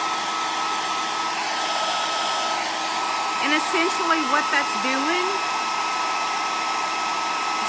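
A hair dryer blows with a steady, loud whoosh and whine throughout, heating an eyelash curler, while a person speaks briefly over it partway through.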